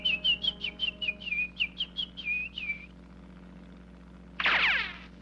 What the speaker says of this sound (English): It sounds like somebody whistling Yankee Doodle.